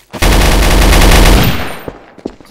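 A loud, rapid burst of automatic gunfire in a first-person shooter video game, a dense machine-gun rattle lasting over a second before cutting off into a few scattered faint clicks and thuds.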